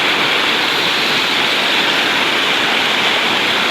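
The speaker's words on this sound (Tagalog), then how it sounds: "Oh, grabe, lakas ang agos dito guys." A strong river current rushing over rocks, a loud, steady roar of turbulent water up close, with no voices heard.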